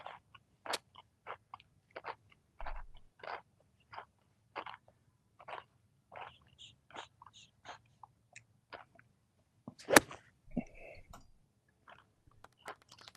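Someone chews Fritos corn chips at a golf tournament, a long run of close, separate crunchy bites and mouth sounds at a steady pace, with one louder crack near the end.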